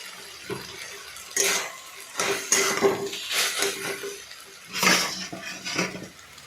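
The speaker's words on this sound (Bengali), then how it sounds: "এদিক ওদিক করে নাড়াচাড়া করতে হবে যাতে না পুড়ে যায়।" A spoon scrapes and clatters against a frying pan while food is stirred, in irregular bursts of metallic knocks and scrapes, close and fairly loud with no talking.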